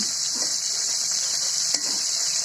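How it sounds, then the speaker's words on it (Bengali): Small river puti fish frying in a little oil, a steady hiss of sizzling throughout with occasional soft scrapes and a light clink as the fish is stirred and turned in the pan. "মাছটা আমি উল্টিয়ে পাল্টে সুন্দর করে ভেজে নিলাম"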